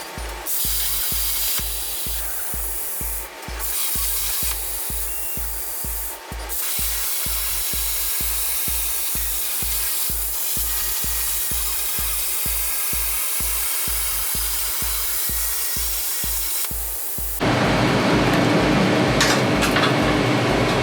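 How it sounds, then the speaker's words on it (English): A plasma table cuts out a steel part with a loud, steady roaring hiss that runs continuously, broken by a regular low pulsing throb. The sound shifts to a harsher, brighter blast near the end. "send it over to the plasma table, cut it out"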